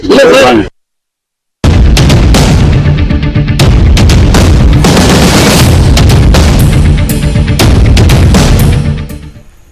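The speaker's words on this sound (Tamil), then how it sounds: "தமிழ்நாடு முழுவதும் இபிஎஸ் ஆதரவாளர்கள் பட்டாசு வெடித்து இனிப்புகள் வழங்கி கொண்டாட்டத்தில் ஈடுபட்டனர்." Firecrackers burst at a political celebration in Tamil Nadu in a rapid, loud string of crackling pops after a brief pause, going on for several seconds before fading out.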